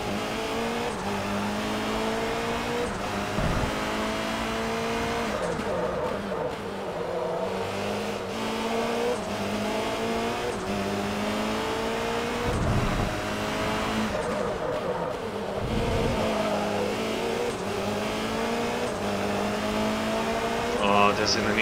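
Race cars in Forza Motorsport 3, a Class R1 world championship round, roar steadily with revving engines and occasional tire squeal throughout, staying loud and continuous while someone talks over the action.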